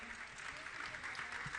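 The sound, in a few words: audience applause honouring a family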